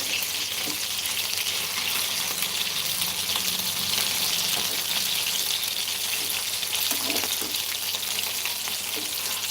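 Fish frying in oil in a pan, a steady loud sizzle of bubbling spatter that runs unbroken throughout, close up, with faint scattered clicks and no speech.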